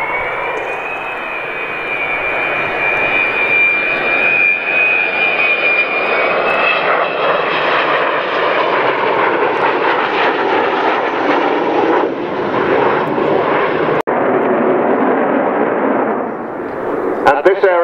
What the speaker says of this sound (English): Vulcan XM607. Coming back in towards us now, flown from the left-hand seat today by Kev